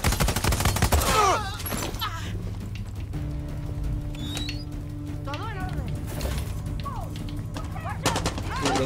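Gunfire during a firefight in the video game Far Cry 6, a heavy burst of shots at the start followed by scattered shots amid steady ambient game noise, with a voice talking over parts of it.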